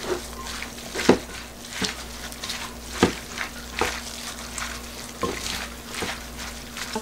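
Lettuce kimchi with carrot and green onion is mixed by hand, giving wet, squelchy rustles and soft slaps at an irregular rhythm, close and moderately loud with no talking.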